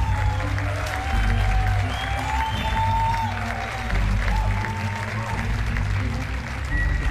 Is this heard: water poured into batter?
no